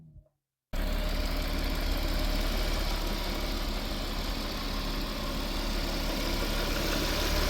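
A supercharged 3.0 V6 Audi S4 Avant (B8) engine idles steadily up close, a constant low rumble that starts abruptly after a brief moment of near silence and holds without change.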